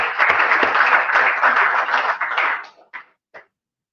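Audience applause at a Nigerian World Public Relations Day event, a dense burst of clapping for about two and a half seconds that thins out into a few final scattered claps.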